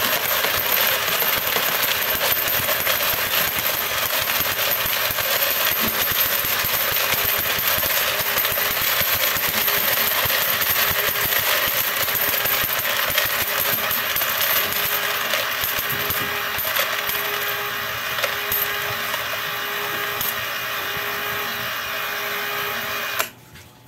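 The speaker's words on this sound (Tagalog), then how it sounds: "Continuous ang pag-release ng coins niyan." Coins pour continuously out of a coin-dispensing sorter machine, a dense unbroken metallic clattering and jingling over a mechanical whir, close and loud before it suddenly stops at the end.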